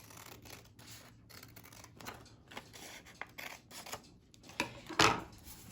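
Scissors snip through paper while a toilet roll bunny craft is being made, with a soft run of rubbing and scraping that ends in one louder close cut near the finish.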